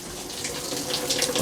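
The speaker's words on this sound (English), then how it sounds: "We'll let that water go out of there." Water drains steadily out of an ice machine, a close, continuous rushing splash with no pauses.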